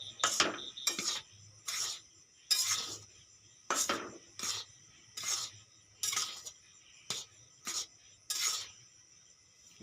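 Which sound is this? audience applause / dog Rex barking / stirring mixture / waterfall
stirring mixture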